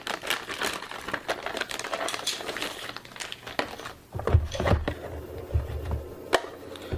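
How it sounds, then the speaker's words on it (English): Packaging of a Netgear AX1800 access point being unwrapped: close, continuous crinkling and rustling of wrap and cardboard, with a few heavier knocks and thumps toward the end as the box is handled. "So let's unwrap the access point."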